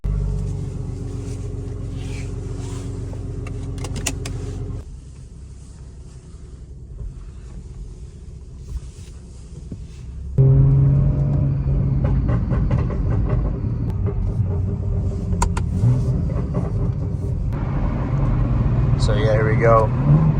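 A BMW with a ZF 8-speed automatic transmission running tuned torque-reduction settings accelerates hard, its engine droning loudly with clear shift breaks and a sudden surge in loudness partway through, mixed with wind and road noise.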